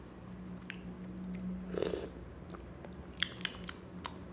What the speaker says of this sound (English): when you taste curry mee, you have to taste the curry first, right?